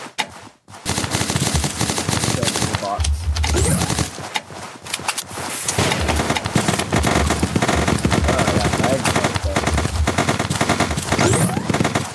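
Rapid automatic gunfire from a ZombsRoyale video game weapon, loud and sustained across the clip in dense bursts after a brief quiet start, with no talk over it.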